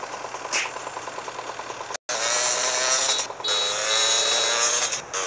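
A Sanchez dirt bike engine in GTA Liberty City Stories revs and drones steadily, with a rough buzzing tone, a brief cut to silence, then louder revving; game-like engine sound.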